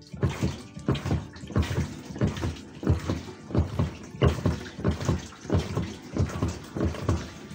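Water from a hand-wash pump spills into the basin of an HDPE portable toilet, arriving in rhythmic gushes and splashes about twice a second, close and steady, with no talking.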